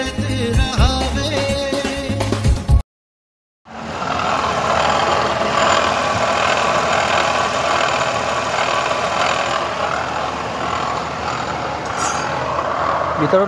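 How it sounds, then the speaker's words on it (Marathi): A Renault Kwid Climber engine with a faulty water pump runs with a steady, loud drone and vibration after a brief cut of silence, a continuous rough hum heard close up without talk. "मित्रांनो, हा व्हायब्रेशन आणि नॉईजवरून आपल्याला समजलंच असेल की काहीतरी इश्यू आहे"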